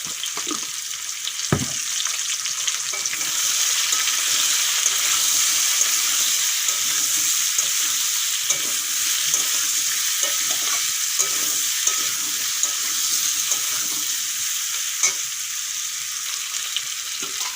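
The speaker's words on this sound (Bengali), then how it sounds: "আগে তো ভাজাই আছে তাও একটুক্ষণ ভেজে নেব" Ash gourd frying in a pan with turmeric and salt, for a dish cooked with shrimp shell paste: a steady, close hiss and sizzle with scraping stirs, broken by one sharp knock near the start.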